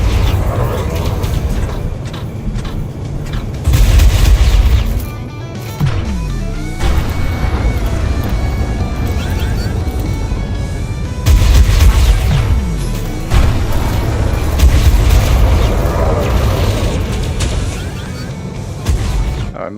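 Heavy booming blasts of Concord cannons firing in a video game, loud low rumbling impacts and crashes in several bursts over a dense continuous din.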